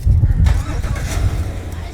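A Cadillac Escalade engine starts up close by with a short cranking burst, then settles into a low, steady idle inside the car.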